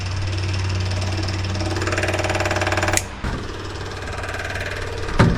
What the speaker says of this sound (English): if I flick the switch, fuel pump's working